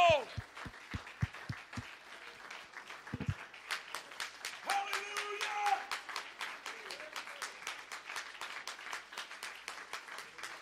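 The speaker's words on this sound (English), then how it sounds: "Clap your hands unto the Lord." A church congregation claps hands in worship, starting with a few sharp separate claps, then swelling into rhythmic, fairly even clapping from many people, with voices and shouts mixed in.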